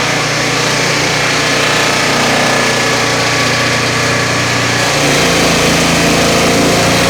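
Turbosawmill engine running loud and steady as it cuts through a sticky, knotty old pine log, a continuous droning whine with a slight drop in pitch partway through as the load changes.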